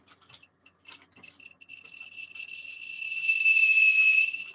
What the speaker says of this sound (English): that's the noise Geiger counters make in real life when they get exposed to horrible levels